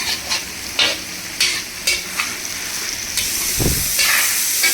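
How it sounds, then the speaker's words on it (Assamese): Soybean chunks frying in a hot pan while a spatula stirs them, giving repeated scraping strokes over a continuous close sizzle, with a brief burst of steamy hiss near the end. "এতিয়া ইয়াতে মই চয়াবিনখিনি মই দি দিলোঁ। এতিয়া এইখিনি ধুনীয়াকৈ মজিব দিব লাগিব"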